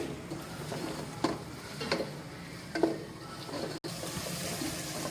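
Vegetables with green onion stir-fried over high heat in an uncovered pan for Chinese fried rice, a soft steady sizzle with a few scraping stirs and clacks of the utensil.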